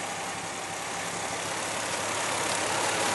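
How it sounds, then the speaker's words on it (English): A Toyota TRD Chaser turbo engine with variable valve timing idles steadily under an open bonnet, a constant close mechanical hum with no talking. "Beautiful sound of the Toyota variable valve timing turbo engine."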